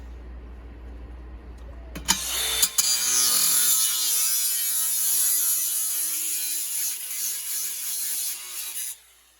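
DeWalt DCG413 20V cordless angle grinder spins up after a couple of clicks and cuts steadily, a loud high whining, buzzing grind held for several seconds before winding down, close by with no talk.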